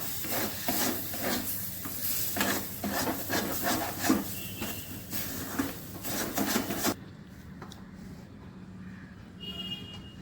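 Spices are stirred into a thick mixture in a pan for dhokar dalna, a Bengali lentil-cake curry, with repeated rhythmic scraping and rubbing strokes that stop abruptly, followed by quieter faint kitchen sounds.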